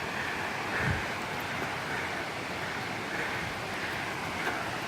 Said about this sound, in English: I'm at the waterfall.